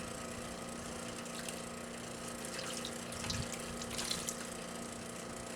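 Water runs steadily from a garden hose pipe, a faint, continuous hiss and splash with no voices.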